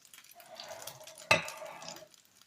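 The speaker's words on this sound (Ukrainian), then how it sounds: "Так будемо смажити ті блінчики." Quiet sizzling of pancake batter frying in a pan, with a single sharp metallic clink partway through.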